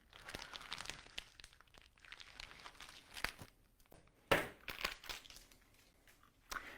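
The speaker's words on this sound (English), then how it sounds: "I'm going to take this and just cut off my cover here." Scissors cut away the plastic cover wrapped around a roll of ribbon: quiet, close crinkling and rustling with a few sharper snips and crackles.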